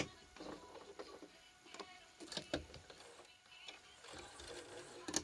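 A sewing machine labours while stitching hand grips for a disability walker, producing irregular bursts of mechanical clatter and ticking that stop and start unevenly, fairly quiet and close.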